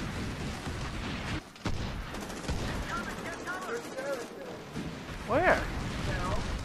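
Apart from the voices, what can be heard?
gunfire in video game Medal of Honor Warfighter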